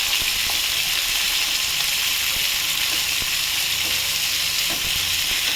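A large onion frying in hot oil with cumin in a pan alongside katla fish, giving a continuous even sizzle and crackle, close and fairly loud, with no voices.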